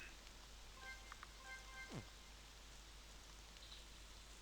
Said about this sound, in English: this level is just silence and rain